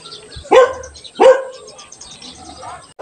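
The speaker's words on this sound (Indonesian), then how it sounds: "Nah, ada suara anjing menggonggong." A dog chained in a village garden barks twice in sharp, loud bursts about half a second apart, then gives a fainter yip, close by and otherwise alone in a quiet yard.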